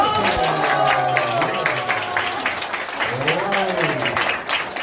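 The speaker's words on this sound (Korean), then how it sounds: "자, 큰 박수 부탁드립니다." Audience applause at a fifth-anniversary festival celebration, steady clapping throughout, with a voice talking over it and a tonal, sung or music-like line weaving above the crowd.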